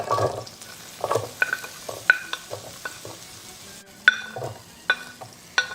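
Onion is stirred and fried in melted butter in a pan over medium heat, with a steady soft sizzle. Sharp clinks of a spoon against the pan land at irregular intervals, close and fairly loud.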